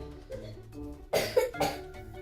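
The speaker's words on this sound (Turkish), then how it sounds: "Bir kez daha öksürür müsün?" A child gives two or three short, wet coughs close by, preceded by quiet breathing.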